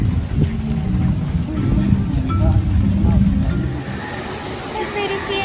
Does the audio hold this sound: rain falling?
yes